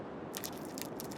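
Food is eaten in the survival game The Long Dark with quiet crunchy biting and chewing, a few soft crackling bites close up over about a second with no talk.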